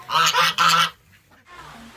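Young laying hens, ready to start laying, give three loud harsh squawking calls in quick succession, followed by quieter cackling in the background.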